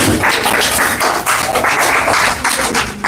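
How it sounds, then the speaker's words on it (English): A group of children clapping at a digital literacy summer camp, fairly loud and close, a dense patter of hands with uneven bursts, somewhat dull and loosely coordinated. "The clapping is a little bit dull."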